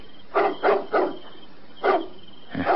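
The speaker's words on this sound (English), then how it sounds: "Seems like you're barking at something up that tree." A dog barks in a quick run of three, pauses, then barks twice more, moderately close, over a faint steady background hiss.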